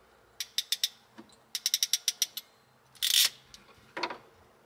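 A small mini splicer tool crimps a wire splice during wiper motor and power window wiring on a Ford F100 race truck, giving crisp ratcheting clicks in quick bursts with a brief scrape, close and alone.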